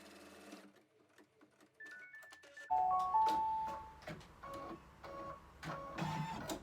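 An embroidery machine stitches lemon fabric laid in the hoop with no glue beneath, starting with quiet ticking and beeps, then a steady, fairly close mechanical whir of fast rhythmic stitching.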